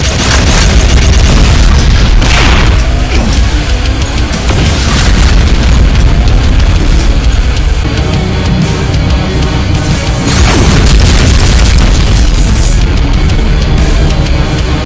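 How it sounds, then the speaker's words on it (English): A continuous barrage of heavy booming explosions from BFG 10K plasma shots in a chaotic Doom mod battle against Cyberdemons, loud and dense throughout with crashing impacts layered over each other. "Charging up a volley of large explosive plasma shots"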